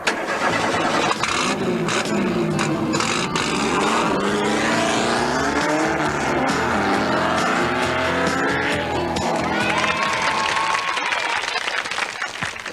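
A Caterham sports car engine revs and accelerates loudly, pitch sweeping up and down through gear changes, with a brief squeal of tires.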